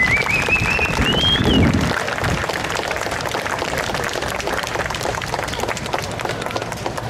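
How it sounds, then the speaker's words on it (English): Outdoor crowd applause at a car donut-spin world record attempt at Vospers, steady and fairly loud clapping over a broad roar, with a whistle at the start. "Round of applause for that."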